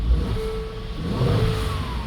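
A Mercedes M276 engine, just repaired, revs up and settles, a close, steady mid-pitched engine drone with a rising whine over the running motor.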